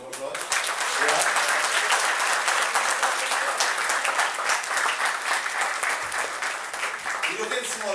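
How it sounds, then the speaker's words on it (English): An audience at a Hindu Bhagwat Katha gathering gives the Ganesh Mandir president a full round of applause, a loud, sustained roar of many hands clapping that runs unbroken for several seconds. "Please give him a round of applause."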